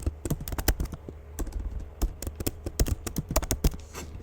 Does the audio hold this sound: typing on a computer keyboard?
yes